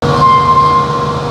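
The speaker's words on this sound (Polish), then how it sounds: "I na tłoki odpala silnik." A 600-ton crane's engine runs loud and close, powering the outrigger pistons with a steady droning hum and a whining tone on top.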